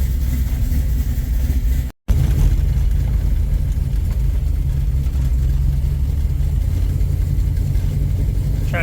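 A 1967 Chevy Nova with new brakes being driven rolls along with a continuous low engine rumble and road noise from inside the car, broken once by a brief cut, with no talking.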